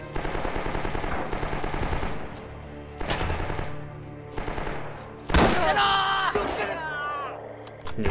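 Machine gun fire in the World War II shooter Rising Storm: repeated loud bursts of rapid automatic shots, separate booming blasts and distant battlefield rumble, with brief shouts mixed in.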